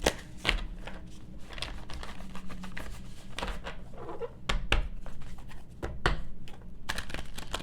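Cards being shuffled by hand, with repeated crisp riffling bursts and sharp slaps at an irregular rhythm, recorded close and fairly loud over several seconds.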